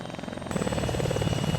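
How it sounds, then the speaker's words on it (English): A helicopter flies over an airfield in a war video game, its rotor beating in a fast steady chop that swells louder partway through. "we hear the helicopter, which means so far nobody knows that we're here"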